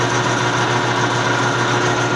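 A lathe carriage feeds along under power after the half nut lever is engaged, giving a steady, even mechanical hum and whir of the running machine with no talking.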